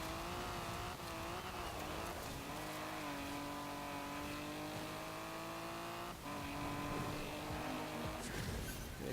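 A 1973 Ford Escort RS1600 in Forza Horizon 4 drives off-road with its engine droning steadily and shifting pitch as it slides about, a continuous, fairly quiet engine note with no talk.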